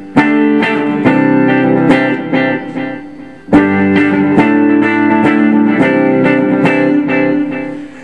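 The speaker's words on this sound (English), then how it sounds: "This is kind of an echo effect, which I showed you before." Electric Stratocaster guitar played through a custom pedalboard echo effect, loud picked notes ringing in a steady rhythm with repeating echoes trailing behind, a brief pause midway, no talking.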